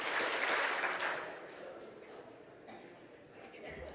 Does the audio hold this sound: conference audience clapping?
yes